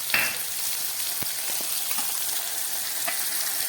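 Onion, tomato, and garlic-ginger paste fry in hot oil with nigella seeds in a pan, giving a loud, steady sizzle throughout with a few soft stirring knocks, close up and without speech.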